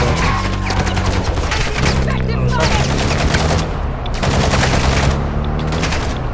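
Loud, rapid bursts of automatic gunfire in the video game Call of Duty: Warzone DMZ crackle almost nonstop, with brief lulls, while a voice talks underneath.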